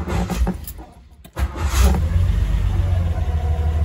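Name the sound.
Triumph Stag Ford Essex V6 engine starting then cutting out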